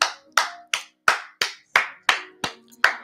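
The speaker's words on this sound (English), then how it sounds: "And I have to applaud him." One person clapping hands in a slow, steady rhythm, nine sharp, distinct claps close by, each with a short ringing decay in a quiet space.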